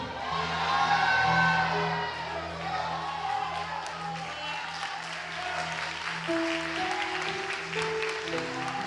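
A church congregation shouts and cheers loudly together in praise, voices swelling then settling into a continuing roar with scattered applause.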